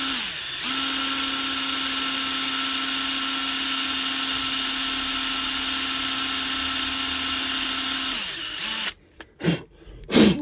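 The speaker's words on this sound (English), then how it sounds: "Right, run the drill backwards." A power drill runs in reverse to back out a broken drill bit, giving a steady loud whine for about eight seconds before winding down and stopping, followed by a few short clattering bursts.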